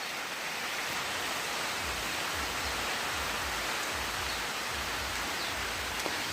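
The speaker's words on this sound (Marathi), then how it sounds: "हे काय आला पाऊस" Steady rain pours down continuously, a dense, even hiss of drops falling on surfaces with no voices.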